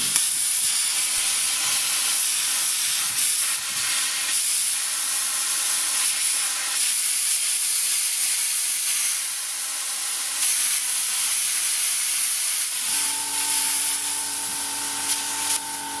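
A Parkside PPS 40 A1 plasma cutter run at 20 to 25 amps hisses steadily while cutting 2 mm sheet metal, a constant loud airy rush that shifts near the end into a tonal hum.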